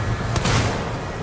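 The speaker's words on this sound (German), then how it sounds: "Ja, Revolver. Dann schießen wir schon mal drauf." A single sharp revolver gunshot from the video game Alien Isolation, a sudden loud crack followed by a brief booming tail over quiet background.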